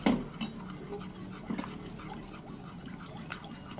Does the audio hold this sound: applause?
no